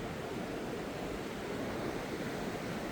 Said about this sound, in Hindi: ये शोर मचाती हुई नदी